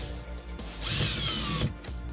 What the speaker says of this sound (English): I'm just gonna grab the power driver because just make it easier on myself.